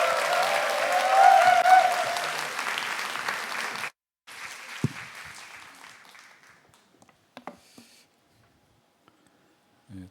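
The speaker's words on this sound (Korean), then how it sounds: "나오실 때 사랑의 박수로 환영해 주세요." A young adults' church congregation applauds to welcome a new senior pastor to the stage, a full, steady burst of clapping for about four seconds that cuts off, then quieter shuffling and scattered small knocks in a hushed room.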